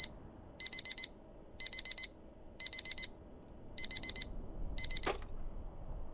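An alarm clock in the video game Deep Pixel Melancholy blares in quick beeping bursts, five short clusters repeating about once a second, loud and near, over a faint background rumble with a brief thud near the end.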